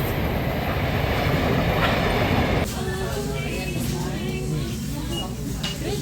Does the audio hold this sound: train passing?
yes